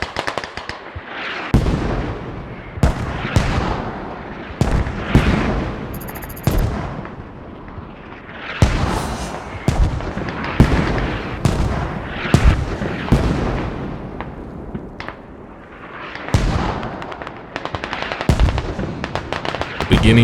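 Mortar rounds and explosions from a Squad match between France and Poland crash repeatedly, loud sharp blasts spaced a second or two apart with rumbling tails, some arriving in quick pairs.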